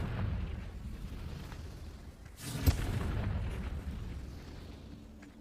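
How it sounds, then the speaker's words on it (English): A Confringo blasting spell erupting in the video game Hogwarts Legacy, a single sharp explosive crack midway that rolls into a rumbling boom over a steady background of battle noise. "Confringo."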